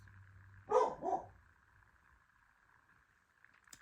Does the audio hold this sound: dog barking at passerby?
yes